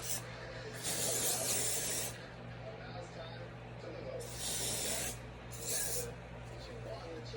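Kenra medium hold hairspray is sprayed onto hair in three close, soft hissing bursts, the first and second lasting about a second each and the last shorter, over a quiet steady background hum.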